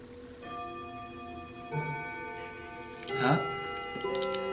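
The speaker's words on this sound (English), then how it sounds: "It's a vintage clock that we just acquired, and it goes off every 10 minutes or so." A vintage clock chimes indoors with clear, ringing bell tones that sustain and overlap, loudest near the middle, with quiet background sound beneath.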